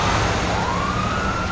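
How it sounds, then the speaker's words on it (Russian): A police car siren wails steadily with a rising tone, loud and close, over a dense background din, with no voices. "Ой, копы едут."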